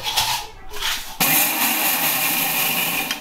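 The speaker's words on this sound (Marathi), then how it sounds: "तुमचा मिक्सर लायचा म्हणजे डिंक पण क्रश करून झाले." A mixer grinder crushing edible gum (dink) for fenugreek laddoos, a loud continuous whirring motor surge that starts after a short lull and runs steadily to the end.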